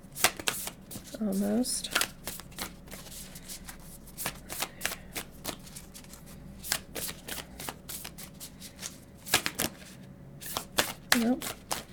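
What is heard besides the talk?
shuffling oracle cards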